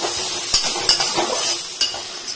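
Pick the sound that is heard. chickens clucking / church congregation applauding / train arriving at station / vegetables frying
vegetables frying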